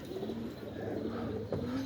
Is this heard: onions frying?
no